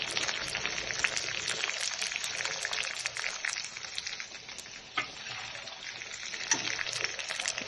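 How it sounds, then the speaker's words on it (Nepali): Chicken pieces fry in a pan for a curry, a dense continuous sizzle with crackling spits, close and fairly loud, with a couple of stirring knocks. "यसरी फ्राई गरेर चाहिँ मासु मिठो हुन्छ।"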